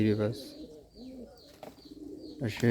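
Soft, low cooing from a pair of giribaz pigeons in a close, steady murmur, with a louder voice breaking in at the start and end.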